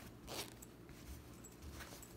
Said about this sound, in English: it's got a zipper to anchor it and all that